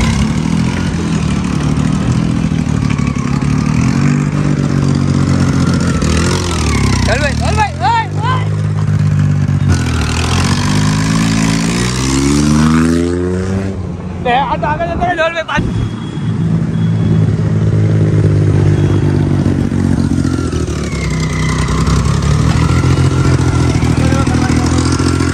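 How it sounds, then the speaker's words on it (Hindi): An 800cc motorcycle engine runs loud and close, idling with a steady low rumble and rising in several revs with sweeping pitch in the middle section. A voice speaks over the engine. "तो गाइस देखो यहाँ पर अपनी बाइक चालू हो चुकी है"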